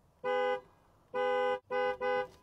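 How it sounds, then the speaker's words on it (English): Horn of a 2021 Mercedes-Maybach GLS 600 sounding in three clear blasts: one long honk, then two shorter ones in quick succession, loud and close with nothing else heard. "2021 Mercedes Maybach GLS 600 indicator first. Now for the horn sound test."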